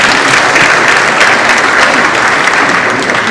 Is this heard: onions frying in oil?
no